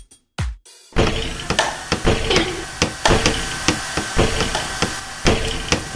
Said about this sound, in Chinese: 周末先嚟装修，你星期一到五装修唔得嘅咩？